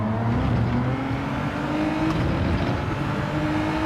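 A Genesis GR4 race car engine in Gran Turismo 7, a steady loud droning engine note with shifting pitch as it accelerates through a corner, no talking.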